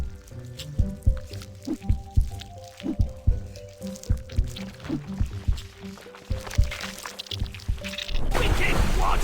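Water drips and splashes in the game Grimm, a run of irregular plopping drops over a steady tonal background, ending in a rushing burst of splashy noise.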